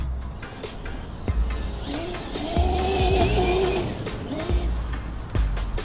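A 1/5-scale Losi 5ive-B off-road RC car with a 12s brushless conversion runs at full throttle across a field, giving a rising electric whine from moderate distance over outdoor noise.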